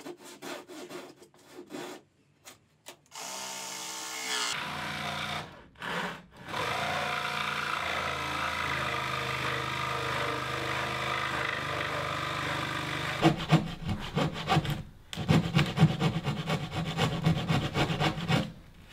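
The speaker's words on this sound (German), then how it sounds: "Deshalb bin ich mit der Japaner-Handsäge nicht wirklich langsamer als Eike mit der elektrischen Stichsäge" Japanese hand saw cutting through a particleboard countertop, giving sustained rasping strokes with a few brief pauses, then a run of quicker, choppier strokes toward the end, close and moderately loud.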